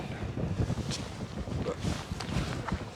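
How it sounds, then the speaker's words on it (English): Strong outdoor wind buffeting the microphone during winter fly fishing, a steady rough rumble with gusty swells throughout and no talk. "The wind is strong here."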